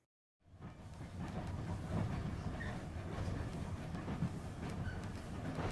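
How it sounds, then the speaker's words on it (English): A passenger train runs on rails on the way back to Moscow, heard from inside as a steady broad rumble with faint rhythmic clicks and rattles, starting after a brief silence and holding at an even level. "I'm on the train back to Moscow."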